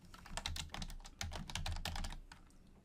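Rapid bursts of keystrokes on a computer keyboard as a word is typed into a search box, close and clear with short pauses between clusters and no talk.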